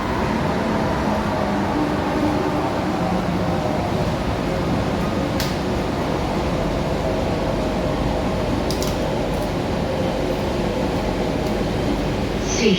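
A passenger sits inside a moving metro train in Kolkata. A steady, broadband rumble of wheels and cabin noise holds at an even level for the whole stretch, with faint clicks now and then and no clear talking.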